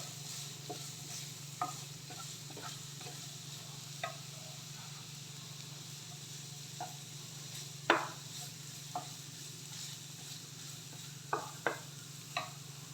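Onions frying with a little salt in a pan, a steady low sizzle with scattered soft scrapes and taps of a spoon against the pan; no voices.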